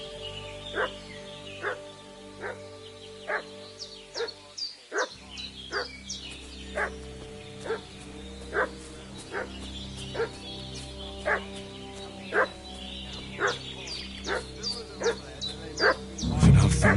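A dog in the video game Kingdom Come Deliverance 2 barks steadily in a regular rhythm of sharp, mid-distance yaps, about one per second, over a low ambient drone, with a brief gap near the start.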